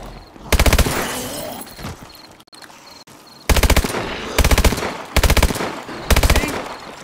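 Machine gun fire in a zombie video game, several loud sustained bursts separated by short pauses, with quieter background game sounds between them.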